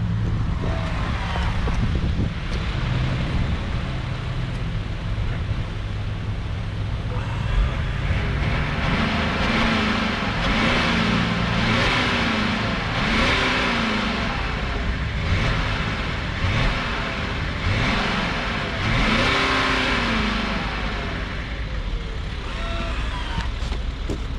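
A BMW X5 E70 3.0 SD, heard from behind the car, has its engine blipped through a series of repeated revs that rise and fall. Outdoor wind buffeting sits over the sound.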